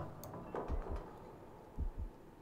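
A low, muffled heartbeat sound effect in the video game Archmage Rises, two faint paired thumps repeating in a slow rhythm over a quiet ambient hum.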